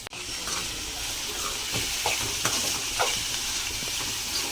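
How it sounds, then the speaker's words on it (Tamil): Chopped onions sauté in a pan, giving a steady close sizzle broken by a few soft scrapes of stirring, with no voices. "இந்த வெங்காயத்தை வந்து நல்லா வந்து கொஞ்சம் வதக்கி விட்டுக்கணும்"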